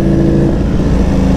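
A Ducati Panigale V4 in Ducati Red runs loud and close, its engine holding a deep, rough rumble with a steady throb, no voices over it.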